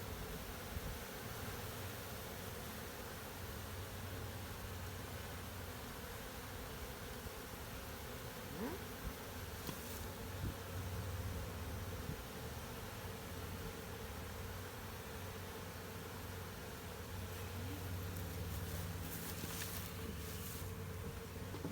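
Honey bees drone steadily around a hive, a continuous low buzzing hum that stays even and moderately faint, with no voices.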